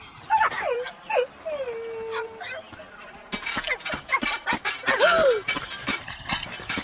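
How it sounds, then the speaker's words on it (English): A dog whimpers and yips in high, wavering cries, several short bursts close by, with clattering noises and a voice in the background. "William, you're a bad dog. Bad dog."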